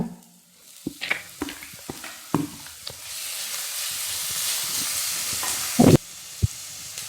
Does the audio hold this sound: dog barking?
no